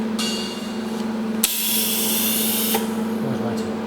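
A TIG welder runs on mild steel with shielding gas flowing, giving a steady electrical hum beneath a bright gas hiss that surges louder partway through, then eases back.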